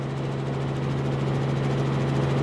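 A news helicopter flies over Fukuoka during aerial filming, its engine and rotor making a loud, steady low drone with a strong hum that holds continuously throughout, close and unbroken.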